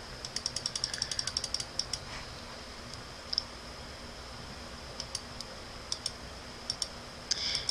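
A computer mouse clicking during image editing in Krita: a quick run of sharp clicks at first, then scattered single and double clicks, close up over a faint fan hum, with no talk.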